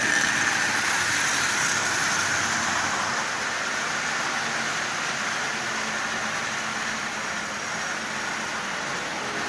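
A Marx 666 toy steam locomotive, a smoker with its headlight out and front truck missing, runs steadily on its motor, giving a continuous even hum and hiss close by with no talking.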